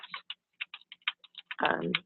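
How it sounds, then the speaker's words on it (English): Computer keyboard keys click in a quick, irregular series of light, crisp taps, ending in a denser flurry of keystrokes while entering a paste shortcut. "I'm going to use my keyboard shortcut to paste"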